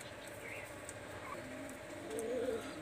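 Pakistani highflyer Teddy pigeons coo softly in a quiet pen, a few low murmuring calls over faint background hiss, the clearest one near the end.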